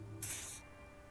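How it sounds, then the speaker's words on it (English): A short burst of odd-smelling deodorant spray hissing onto an armpit in the video game Disco Elysium, one steady hiss lasting about half a second over a quiet, faint background. "douses you with the odd-smelling spray, a double helping as you present your other armpit"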